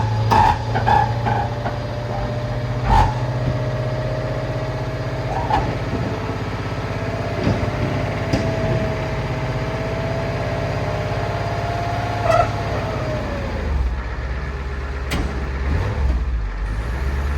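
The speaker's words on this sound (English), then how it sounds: "as I bring the bed back up onto the back of the truck" A dump truck's bed is lowered back down onto the truck at a firewood woodyard, carrying a tote; a steady engine idle with a rising hydraulic whine runs throughout, with scattered clunks and a final settling thud near the end.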